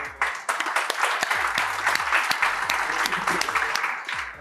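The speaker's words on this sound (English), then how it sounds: "Quick round of applause" Audience applause at a print automation technical presentation, a dense spread of hand claps filling the room steadily from start to end, with a few faint voices underneath.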